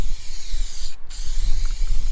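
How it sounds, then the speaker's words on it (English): A continuous close hiss of an aerosol can spraying high build grey plastic primer, with one brief pause in the middle before spraying resumes. "I'm going to spray it with this high build grey primer"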